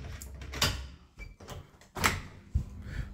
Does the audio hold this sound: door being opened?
yes